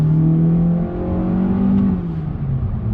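A 2020 Honda Accord Sport sedan accelerates hard on throttle through a U-turn, its engine note rising steadily in a smooth, continuous rev from inside the car, loud and unbroken with no talk.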